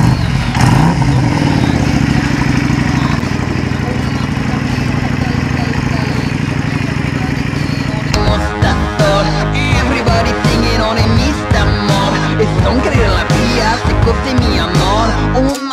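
A motorcycle rolls off from a gas station in Salavat, its engine running steadily up close before rising into louder revving and mechanical clatter; wind and road noise sit in the background.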